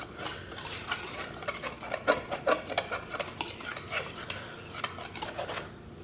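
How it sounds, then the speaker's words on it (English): A whisk scrapes and clatters around a bowl of dry banana bread ingredients, quick continuous stirring strokes heard up close with no talking. "I'm going to use my whisker to whisk them all together"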